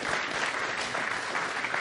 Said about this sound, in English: Could we have another round of applause for our speaker?